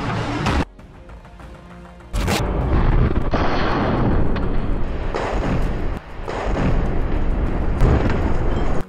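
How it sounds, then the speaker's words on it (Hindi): An RPG fired at an IDF tank during the Israel–Hamas war in Gaza, with loud booming blasts and a sustained roaring rumble of explosion and debris following an abrupt hit, alone without talk. "सामने खड़े एक टैंक पर भी अल कासिम के लड़ाके RPG फायर कर देते हैं"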